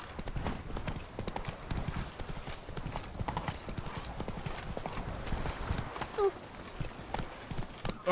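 Horse hooves clip-clop in a quick, steady rhythm close by, with a voice speaking at times over the hoofbeats.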